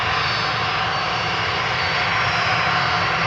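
A Delta Airbus A330-300 roars with loud, continuous jet engine noise during a rejected takeoff on the Polderbaan runway at Amsterdam Schiphol Airport, steady and close throughout with no talking.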